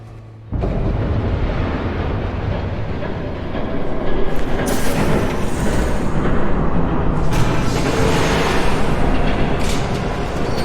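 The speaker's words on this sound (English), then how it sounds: "There's a train coming." Train approaching in Batman The Telltale Series: after a brief quiet start, a loud rumbling roar builds and swells, with rattling clatter surging as it draws near.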